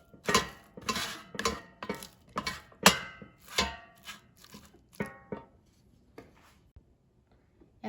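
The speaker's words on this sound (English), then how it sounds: "Now you can mix them again so they look truly scrambled." Utensil scraping and clinking in an air fryer basket while scrambled eggs are mixed, a quick series of close scrapes and taps that slow and grow sparse toward the end.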